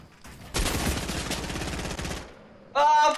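Hunting rifle gunfire in a one-on-one video game match, a loud sustained stretch of rapid shots followed by a sharp bright burst near the end.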